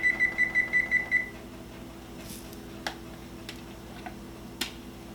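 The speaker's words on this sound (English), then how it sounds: "I'm gonna set the timer" A kitchen oven timer beeps a rapid series of about seven short, bright tones close by, then goes quiet, followed by a few faint clicks and taps in a quiet kitchen while baking salted caramel pecan chocolate chip cookies.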